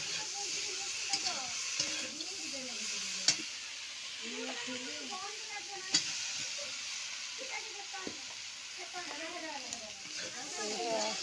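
Mixed vegetables sizzle steadily in a hot pan while a spoon stirs and scrapes them, with sharp clicks against the pan and someone speaking over the frying.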